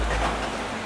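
Rain falls steadily on an outdoor iguana enclosure, a continuous broadband patter with no voices, loud and even throughout.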